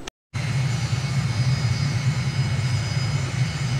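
Jet engines roar steadily as an aircraft sits on the runway before takeoff in Microsoft Flight Simulator, with a brief silent gap near the start, then a loud continuous rumble with a whining hiss.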